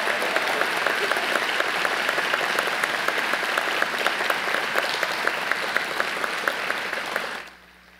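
Sustained, dense applause from an audience honoring business department faculty at a university course inauguration ceremony, steady and full for about seven seconds before cutting off abruptly.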